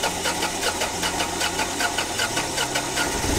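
A food truck engine starting, then running steadily and loudly with a rough, knocking idle that shifts in tone near the end.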